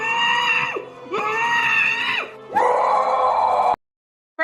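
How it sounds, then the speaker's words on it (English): A voice lets out three drawn-out, loud screams in a Yoda-like voice, each rising and then breaking off, followed by a short silence. "As Yoda screams"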